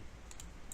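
A few faint, crisp keystrokes on a computer keyboard, about three light taps over a quiet background hiss.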